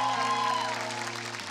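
A TV music show audience applauds for the performers in a short, dense burst of clapping that runs under lingering sustained musical tones.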